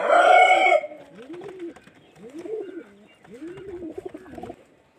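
Pet pigeons coo close by in a series of soft, rolling calls, three or four in a row, after a brief loud opening burst.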